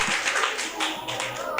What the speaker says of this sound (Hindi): इन बच्चों के लिए जोरदार तालियां बजाएंगे।